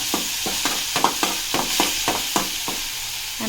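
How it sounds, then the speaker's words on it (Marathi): Chopped green chillies frying in a pan for methi bhaji, with a steady sizzle under a series of rhythmic scraping strokes of a spoon stirring, close and moderately loud. "हिरवी मिरची टाकल्याच्या नंतर त्याला थोडंसं असं हलवून घ्यायचं"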